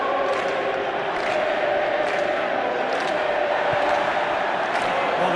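A stadium crowd roars and cheers in a Serie A match between Napoli and Fiorentina in eFootball 2022, a dense continuous wall of noise with chant-like swells, loud and steady throughout.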